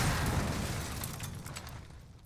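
A vehicle explodes in Warzone, the battle royale shooter, on the Verdansk map: a loud, heavy blast that trails off into a fading rumble over about two seconds, with no voices over it.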